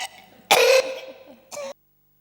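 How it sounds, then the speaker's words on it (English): A single harsh cough followed by a shorter second cough, close and loud, then silence. "You'll never forget my cough?"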